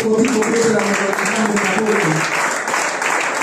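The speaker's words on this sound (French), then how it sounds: "Est-ce que nous pouvons applaudir la parole de Dieu?" A church congregation claps together during a Sunday service, with a dense burst of applause that holds steady for a few seconds while a voice speaks over it.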